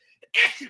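A single sharp sneeze from a person during a morning talk show discussion, preceded by a faint intake of breath and followed by a brief trailing exhale, close and fairly loud.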